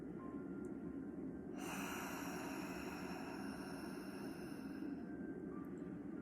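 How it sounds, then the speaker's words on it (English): A steady, airy ocean-like breath exhaled through a partly closed throat, with a soft hiss, long and even, with a constant low rumble underneath. "when you exhale, you're going to make an ocean sound"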